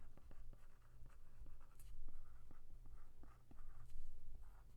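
Pen or pencil writing math expressions by hand on paper, a steady scratchy stroking with short repeated marks, close and fairly quiet, alone with no voices.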